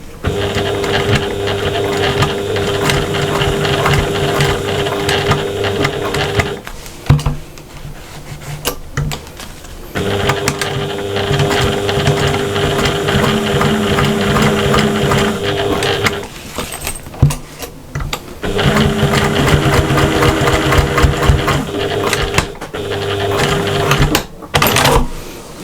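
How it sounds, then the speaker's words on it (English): A sewing machine top-stitches a cross-body bag in long, even runs of rapid mechanical clatter. It stops briefly between passes, with small handling noises in the gaps. "Nice neat top stitch around that little square."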